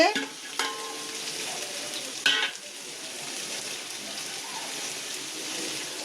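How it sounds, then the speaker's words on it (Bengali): Round slices of bitter gourd sizzle steadily in a pan of hot oil, with a couple of sharp scraping stirs; the frying is close and continuous, with no talk. "এখানে হচ্ছে গোল গোল করে করলা ভাজা হচ্ছে"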